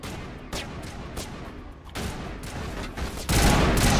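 Suppressing gunfire in Mass Effect: Legendary Edition, a series of sharp shots and bursts over a steady battle backdrop, building to a heavier, louder volley near the end.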